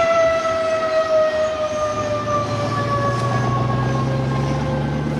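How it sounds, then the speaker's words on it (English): A long, steady air raid siren wail marking noon in Hanoi, sustained throughout, loud and continuous with a low rumble beneath, no voices. "An air raid siren is still used to mark the noon hour in Hanoi."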